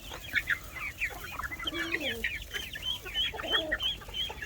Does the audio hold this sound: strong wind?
no